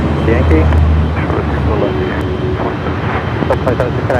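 A jet airliner taxiing at LAX toward the north side runways for takeoff, a loud continuous engine rumble and whine with steady tones, while radio chatter and voices talk over it.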